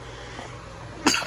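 A single short, sharp sneeze bursts out near the end after faint room hum, close by in a college dorm bathroom on move-in day.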